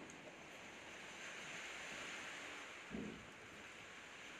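A steady, faint hiss of wind-driven rain spray from a typhoon rushes on without a break at a house, with a single soft thump near the end.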